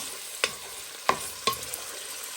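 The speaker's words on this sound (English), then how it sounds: "Just keep stirring them and breaking them apart" Pork pieces frying in a pot, stirred and broken apart with a wooden spoon: a low, steady sizzle with three distinct scraping knocks of the spoon against the pan.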